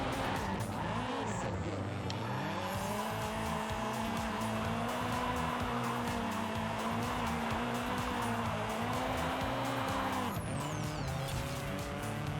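A 1993 Nissan 240SX in Forza Horizon 5 slides and skids, its steady engine drone layered with sustained tire squeal that continues loudly and without pause, the pitch shifting briefly near the end.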